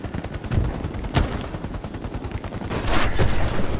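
Gunfire in the video game Hell Let Loose on Utah Beach, a loud continuous barrage of rapid shots and heavy cracks with no pauses, with no talking.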